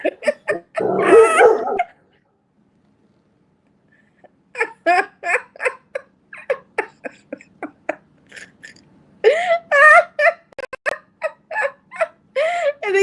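A dog barks in a loud burst near the start, then a run of short sharp yips and barks follows in quick, uneven bursts.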